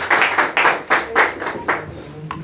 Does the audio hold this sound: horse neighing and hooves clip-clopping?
no